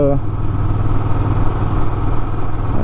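A motorcycle ridden on a road in Japan, its engine droning loud and steady close to the microphone with continuous rumbling and wind, and a brief hint of talk at the start.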